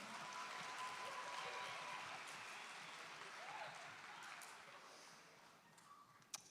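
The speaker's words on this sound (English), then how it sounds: "Let's give our Legends Choir another round of applause." Applause from a high school graduation crowd for the student choir, faint and distant but sustained and dense, fading a little toward the end with a sharp click at the close.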